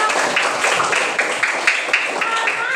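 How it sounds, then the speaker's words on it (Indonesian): A class of students applauds a classmate during a civics lesson on social norms, with dense, steady clapping from many hands filling the room, loud and close. "Beri tepuk tangan untuk Nipa"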